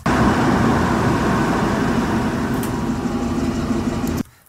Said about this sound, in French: Il ralentit et il coupe le moteur à la fin.